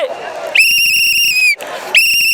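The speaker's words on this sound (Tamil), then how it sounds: "இந்த விசில் சத்தம் இந்த விசில் பதில் சொல்லும்" Shrill whistles blown by a crowd at a TVK political meeting in Chennai, two long loud blasts each lasting around a second, with crowd noise between them.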